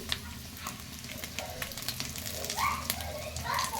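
Curry leaves hit hot oil in a pan of frying chicken, producing a moderate crackling sizzle with scattered pops and a few faint squeaky utensil sounds, without speech.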